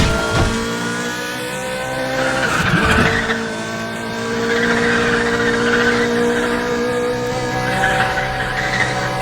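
Car drifting sideways through mountain switchback turns in Need for Speed: The Run, with a loud, steady engine drone and long tire squeals rising and falling through each bend, no voices.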